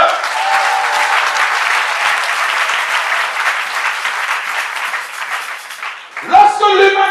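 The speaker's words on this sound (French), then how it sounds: "Est-ce qu'on peut acclamer le Seigneur?" A church congregation claps and cheers in dense, loud applause that holds for several seconds, then fades as a voice returns at the end.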